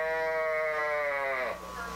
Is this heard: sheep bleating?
yes